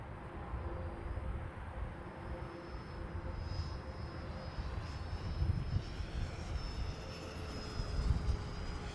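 Freewing Yak 130 70mm EDF model jet making a pass at about three-quarter throttle, a steady whooshing ducted-fan whine that stays fairly faint and distant, swelling slightly as it goes by.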